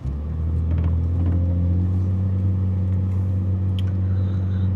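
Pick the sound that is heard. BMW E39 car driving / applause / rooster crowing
BMW E39 car driving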